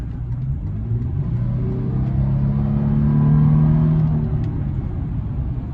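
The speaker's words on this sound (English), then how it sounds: "We're gonna get a little downshift action here and see how it responds." A 2023 Toyota 4Runner's engine rumbling from inside the cabin, its pitch sliding upward as it accelerates after a downshift at 42, steady road noise underneath.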